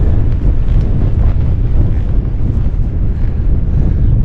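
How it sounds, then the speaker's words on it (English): Strong, steady wind at a wild camp in Borrowdale buffets the microphone throughout with a loud, roaring low rumble and no other sounds. "it's quite windy today"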